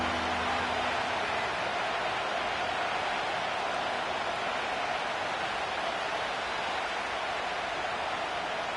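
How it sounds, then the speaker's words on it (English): Steady crowd roar from a Madden NFL football game stadium, a dense continuous wash of noise filling the whole stretch at even loudness with no breaks. "Crowd getting in it a bit already."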